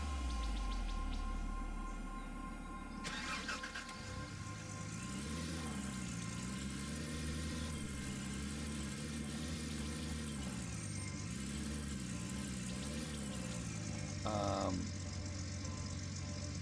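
A truck engine idles in the Gold Rush video game, a steady mechanical hum with a wavering, pulsing tone, heard alone without talk and briefly interrupted by a couple of short clanks.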